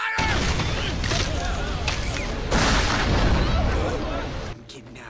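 Cannon fire booms in an Attack on Titan anime battle scene, loud repeated blasts and rumbling under dense action noise for several seconds, ending abruptly.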